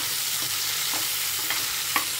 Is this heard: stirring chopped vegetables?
yes